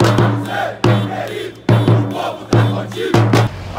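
Cruzeiro football supporters gathered at Barro Preto protesting against the club board, a loud massed crowd chanting in strong rhythmic surges that repeat roughly every second, with sharp shouted accents on each beat.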